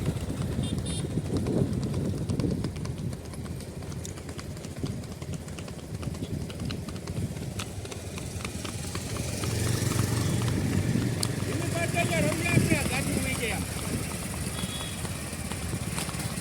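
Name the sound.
mare's hooves clip-clopping on the road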